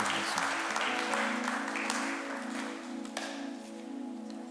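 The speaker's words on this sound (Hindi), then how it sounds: "उसको ताली बजा के स्वागत करें।" A Hindi Sunday church congregation claps to welcome a visiting pastor, a burst of many hands that is loud at first and tapers, with a sustained tone from music or a hum underneath.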